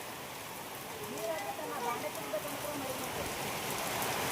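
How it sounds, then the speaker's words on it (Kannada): Steady soft patter of rain falling, with faint voices murmuring underneath throughout. "ಹಾಂ ನೋಡ್ರಿ ಮಳೆ ಹೊಂಟದನ್ರಿ"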